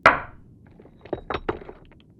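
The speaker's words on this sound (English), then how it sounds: "And then you hear a thud on the door." A single heavy thud strikes a door, close and sharp, followed by a few fainter knocking or clinking taps and soft rustling.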